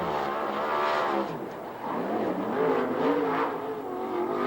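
A 360 sprint car runs a lap on a dirt track in Ventura, California, its engine a loud wailing rise and fall of revs as it circles the oval.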